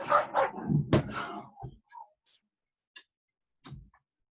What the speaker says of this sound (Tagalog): Nag-away yung dalawang aso.